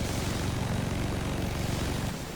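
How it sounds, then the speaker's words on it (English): A helicopter in a video game flies close by, its steady rotor and engine drone holding loud and continuous throughout without pause. "Just spend an extra 20 seconds killing the stupid helicopter."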